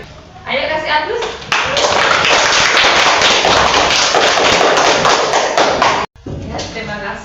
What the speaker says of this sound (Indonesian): Ayo kasih aplaus.